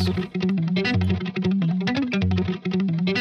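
A distorted electric guitar without multiband compression plays a quick, punchy riff of chugging notes with a few short pauses.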